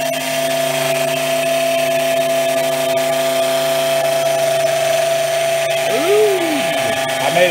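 A new router on a 4x8 CNC machine cuts an arcade part, a steady loud motor whine with a constant pitched hum that holds throughout, briefly bending in pitch near the end as the cut changes.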